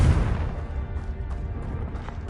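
A Confringo spell blast in Hogwarts Legacy: a heavy low boom at the start that decays into a long rumbling tail, with a few faint cracks scattered after.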